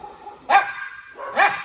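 Rescued stray dogs in a home shelter, two sharp barks about a second apart, close and loud against a quiet background.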